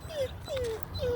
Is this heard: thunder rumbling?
no